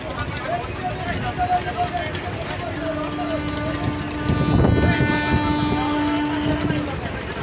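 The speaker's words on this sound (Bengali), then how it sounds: "এটি বরিশালের সবচেয়ে বড় লঞ্চ সুন্দরবন 16, এবং সেভাবেই আমরা যাচ্ছি" Sundarban 16, a large passenger launch from Barisal, cruises along a river with its engine droning steadily and a few sustained tonal whines over it, while someone talks throughout.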